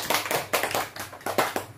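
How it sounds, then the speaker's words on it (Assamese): Brief classroom applause: a small group of students clapping together in a quick, uneven burst of claps. "চাপৰি দিয়া"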